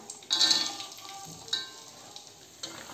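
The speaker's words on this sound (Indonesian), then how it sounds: "Lalu ini kita masukkan kacangnya. Ini kita goreng hingga berwarna kekuningan gitu ya." Peanuts frying in hot oil, a close, crackling sizzle with bursts as they are stirred, flaring loud at the start and again midway before settling to a steady fry.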